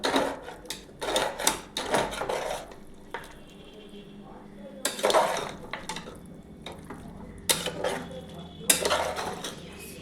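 Mutton kosha is stir-fried in a pan with repeated scraping and clattering strokes of a spatula in uneven bursts, and a voice speaks between them.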